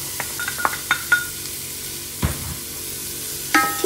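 Celery, onion and garlic sizzle in a pot for fennel soup, a low frying hiss broken by several sharp metallic clinks and scrapes of a spoon against the pot.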